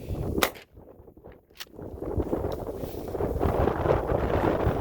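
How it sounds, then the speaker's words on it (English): Shotgun fired at a pumpkin outdoors, two sharp loud blasts in quick succession near the start followed by wind buffeting the microphone and low rumbling noise. "So let's go ahead and shoot it again."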